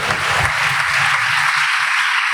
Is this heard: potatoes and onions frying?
no